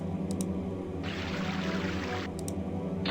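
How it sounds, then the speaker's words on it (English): Water turned on in the video game The Visitor, a hiss of running water that starts and stops after about a second, with a few soft clicks, over a low droning game soundtrack. "Turn on the water."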